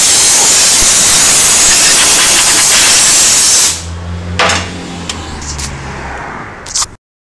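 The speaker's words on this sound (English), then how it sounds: "As usual, we're just going to blow out around the pan" Compressed air hisses loudly and steadily while blowing dirt away from around the transmission pan of a Land Rover with a ZF4HP22 automatic gearbox. The jet cuts off partway through, leaving a quieter workshop with a low hum and a few short bursts.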